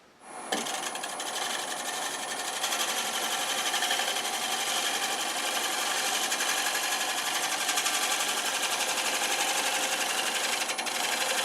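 Steady high whirring and hissing of a wood lathe as a tool shear-scrapes the spinning wood, close, loud and continuous after a sudden start.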